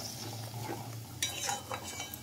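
Jackfruit biryani masala with beaten yogurt being stirred in a pot on low heat, with soft scraping and a few clinks of a spoon against the pan over a faint low hum.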